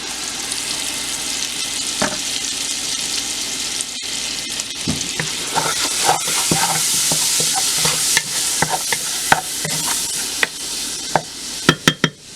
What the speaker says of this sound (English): Now we're gonna add our shrimps, nice seasoned shrimps. We're gonna fry this up a little.